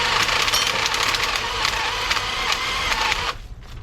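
An impact wrench loosens a bolt on a Honda Wave Dash 110 motorcycle during restoration, a loud, rapid rattling hammer that runs steadily for about three seconds and then stops.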